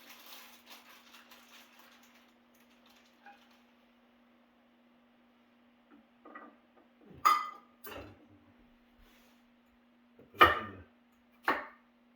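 Carrots are cut with a knife on a cutting board. About five sharp, separate chops land sparsely in the second half, with quiet pauses between them and nothing else around.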